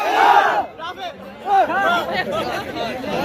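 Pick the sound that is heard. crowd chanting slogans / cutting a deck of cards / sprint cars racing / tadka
crowd chanting slogans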